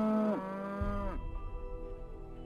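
Cattle in the farming game Settlement Survival give a loud, drawn-out moo that falls in pitch, then a second lower lowing call, with game ambience underneath.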